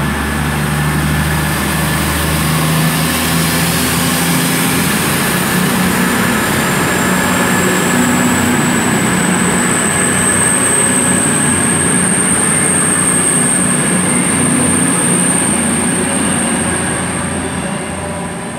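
A Class 221 diesel train pulls out of Bristol Parkway station, its engine drone and rolling wagons loud and steady throughout, with a high whine rising as it accelerates away.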